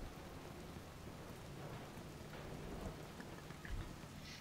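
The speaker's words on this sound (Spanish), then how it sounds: "Efecto de lluvia mola, y además creo que hay veces que llueve más y todo." Steady rain in the video game Watch Dogs hisses continuously, with dense patter and faint low rumbles, and no talking.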